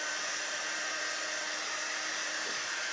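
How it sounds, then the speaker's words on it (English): A quick dry tool, similar to a blow dryer but blowing air that is not very hot, gives a steady, loud broadband whoosh that holds even for the whole stretch with no talking. "This is called our quick dry tool. It's kind of like a blow dryer. It blows air that's not really hot"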